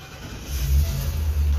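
A 2021 Thor Chateau 31B motorhome engine cranks and catches, settling into a steady low idle rumble that swells slightly partway through, close and continuous.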